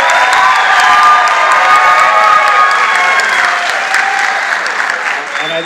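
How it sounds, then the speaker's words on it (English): Town hall audience at a congressional meeting in Meridian, Idaho bursts into loud sustained applause mixed with cheering and shouts, a dense crowd roar that fades slightly toward the end. "I take it they're not clapping at me,"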